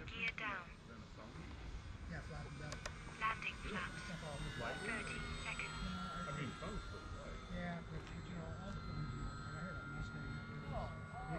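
An E-Flite P-51D Mustang RC model plane drones steadily overhead as it comes in to land, its engine tone holding at moderate loudness, with voices talking over it.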